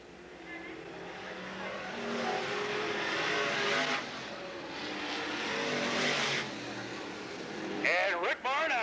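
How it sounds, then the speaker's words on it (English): Race cars roar around Cottage Grove Speedway during a heat race at a 1993 open competition show, their engines droning and swelling as they pass, with a sharp high squeal near the end and a voice talking over the noise. "And Rick Barn out of Youngkawa leading the first heat race tonight"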